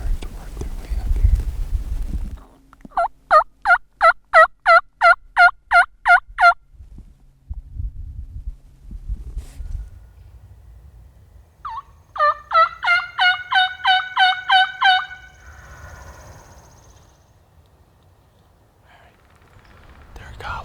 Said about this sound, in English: They're gobbling just back in here, just kind of over my left shoulder.